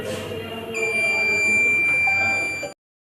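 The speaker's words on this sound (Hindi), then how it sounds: "ये मैं बजर चालू हो गया।" Electronic buzzer on a student-built pair of anti-sleep smart glasses for drivers, sounding as one steady, loud, continuous high-pitched tone for nearly three seconds and then cutting off abruptly.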